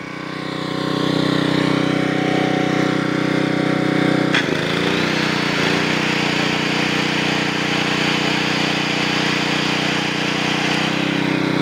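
Generac 750 watt portable generator engine running steadily with its choke half closed, a loud continuous drone with a slight shift in tone partway through, no voices.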